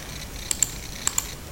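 A few quick, light computer keyboard clicks land in two pairs, close and crisp over a quiet hum, while an Excel formula is typed.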